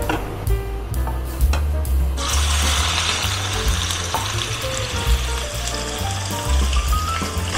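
Salmon fillet frying in hot olive oil in a pan, a steady close sizzle with faint crackles and low background hum, growing brighter and fuller after a couple of seconds and continuing evenly throughout.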